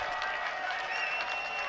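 A stadium crowd in NCAA Football 2025 at a Division III playoff game between Eastern and Franklin & Marshall roars and applauds in a brief, dense burst of cheering.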